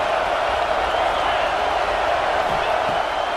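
A stadium crowd roars in a college football video game, Tulane versus UAB, a steady, broad, continuous wall of crowd noise that stays even and loud throughout, with faint voices within it.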